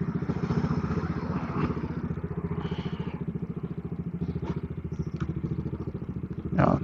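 A Kawasaki Dominar 400 UG motorcycle idles close by with a steady, rapid, thumping engine pulse, joined by occasional brief clatters and knocks.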